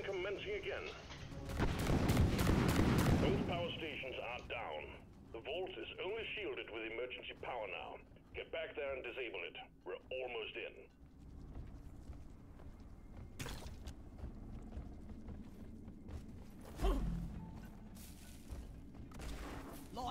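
Gunfire in a boss fight in Deep Rock Galactic, with a loud burst of heavy shooting early, then radio-style voices and scattered later shots and booms.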